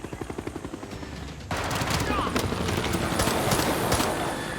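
Helicopter units attack in the Civilization VI video game, starting with a rhythmic rotor chop and then breaking into a loud, dense burst of rapid gunfire and explosions that lasts to the end.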